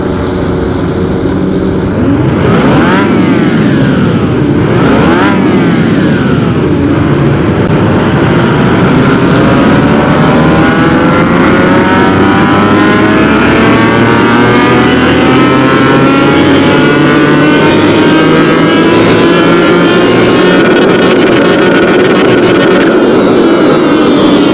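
A 7.1-litre twin-turbo V12 in a 2000-horsepower Rolls-Royce Ghost on a dyno, several quick revs, then a long, very loud pull that climbs steadily in pitch and roars without a break.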